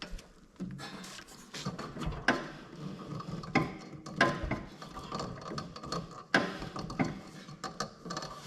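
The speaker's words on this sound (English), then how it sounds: "put a ratchet into and pull the belt tensioner back to loosen it" A ratchet on the belt tensioner of a Gravely ZT60 HD zero-turn mower clicks in short bursts amid metallic clanks and knocks, close and moderately quiet.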